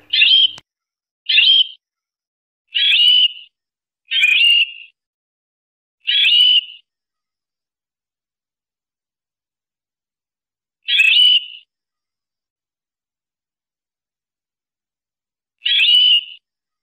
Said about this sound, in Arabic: غادي نسمعوا الأصل ديالها كيفاش كتجيبها القوبع